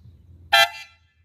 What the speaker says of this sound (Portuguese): Vamos acionar aqui a, a corneta do Logos